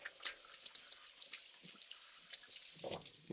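Tap water rinses a stainless steel skillet in a sink, a faint, steady hiss of running water with small splashes and drips, heard alone.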